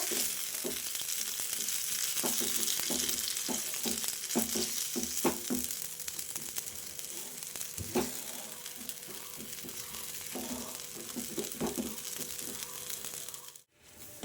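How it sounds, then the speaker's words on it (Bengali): A potato and pea filling is stirred and fried in a pan, giving a steady sizzle with repeated scraping knocks of the spatula throughout, close and fairly loud, with no talk. "আমি এটাকে এইভাবে নেড়ে নেড়ে পুরোটা টানিয়ে নেবো"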